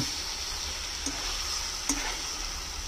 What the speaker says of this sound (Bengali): এবার এটাকে খুব ভালো করে কষিয়ে নেব।